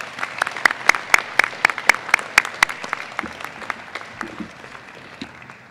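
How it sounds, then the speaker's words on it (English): Audience applause for student singers at a school awards ceremony, with distinct rhythmic claps standing out over a softer crowd clapping that gradually thins out. "How about another round of applause for our singers?"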